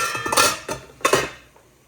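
Metal pot clanking as a tray of dhokla batter is lowered into hot water for steaming, three short clattering knocks close by in a quiet kitchen.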